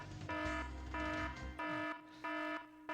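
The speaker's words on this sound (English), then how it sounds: "That is just our alarm, letting everyone know that there are only 10 minutes remaining in the current tournament." Loud electronic alarm at a Pinball FX3 tournament signalling ten minutes remaining, sounding in four pulsing bursts of a harsh buzzing tone with brief gaps between them, no voices over it.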